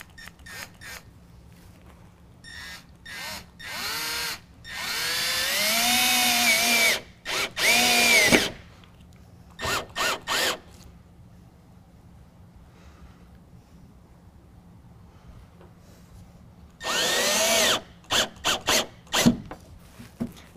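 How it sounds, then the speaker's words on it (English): A power drill drives self-tapping screws through a tonneau cover canister into its mounting bracket on a 2019 Chevy GMC 1500 pickup, in short whining bursts with rising pitch, separated by quiet pauses and small rattling handling noises. "we're going to drill through the canister into the canister bracket"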